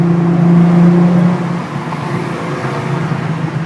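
A Nissan GT-R engine tuned for high boost idles smoothly close by, a loud steady low rumble with a faint tonal hum that eases slightly partway through.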